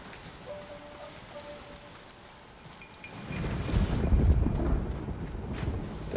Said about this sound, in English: Oh man, the sound of thunder too, man. It's so calming for me.